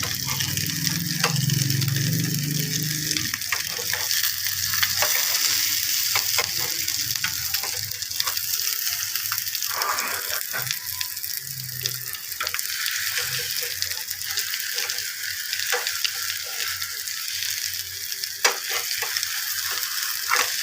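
Egg Maggi Mughlai paratha fries in a pan with a steady, loud, close sizzle that carries on throughout, broken by occasional scraping stirs and light clatter.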